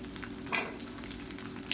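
Garlic and small shallots sauté in a pan, giving a steady close hiss of sizzling oil with a faint stir or tap partway through.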